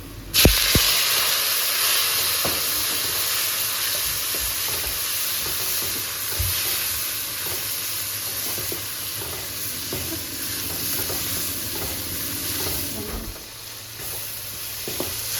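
Steady sizzling and hiss of about three chopped tomatoes frying in a hot pan, with occasional stirring scrapes and clicks, continuous throughout with no talking.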